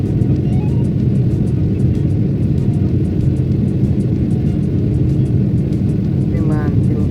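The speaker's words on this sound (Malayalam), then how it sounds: "കാത്തിരുന്ന വിമാനം എന്താ പൊങ്ങി തുടങ്ങി." An airplane lifting off from an airport in Qatar, heard from inside the cabin as a loud, steady low engine roar and rumble that holds constant throughout.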